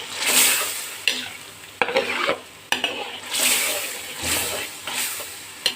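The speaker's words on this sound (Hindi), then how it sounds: "इसको हल्का सा फ्राई करेंगे, बहुत ज़्यादा भी नहीं करना कि फिर ये दाल सख्त हो जाती है।" Chana dal and spinach masala fry and sizzle in a pan while a spoon stirs and scrapes it in repeated bursts, with occasional clinks of utensil against metal, close and fairly loud.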